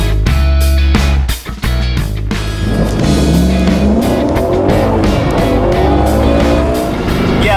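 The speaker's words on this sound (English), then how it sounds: "This Mustang is a knock your socks off type of beast. A lot of fun to drive." A 2016 Ford Mustang GT drives hard, its engine roaring loud and close throughout with shifting pitch, a few sharp transient hits near the start and a steady growl as it accelerates.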